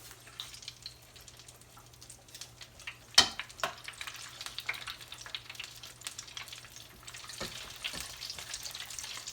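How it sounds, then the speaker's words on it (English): Quiet, steady crackling and sizzling of flour-and-cornstarch-coated pork finger ribs frying in hot oil in a fryer, with a few sharper pops and clinks along the way. "Gonna get them frying off in here."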